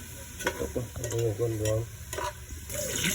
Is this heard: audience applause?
no